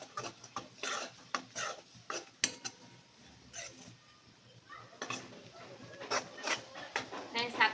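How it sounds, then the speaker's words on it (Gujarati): Flour being roasted in a pan for kachori dough is stirred steadily, a utensil scraping and clinking against the metal in irregular bursts, close and moderately loud with a faint sizzle beneath and no talk. "આ રીતે સતત હલાવતા જઈએ આપણે લોટને શેકી લેવાનો"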